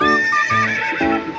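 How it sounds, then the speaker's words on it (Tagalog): Horse neighing: a single loud, close whinny with a quavering pitch that falls and wavers over about a second and a half, with no voices. "Ano yung English ng kabayo? Horse."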